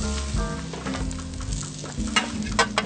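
Vegetables frying in oil on a hot cooking surface, a steady close sizzle with crackles and a few sharper pops over a low background hum.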